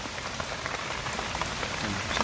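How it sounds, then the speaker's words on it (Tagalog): Heavy rain pouring down in the mountains, a dense, steady hiss of drops on surfaces with no pauses, fairly soft overall. "malakas na ulan po"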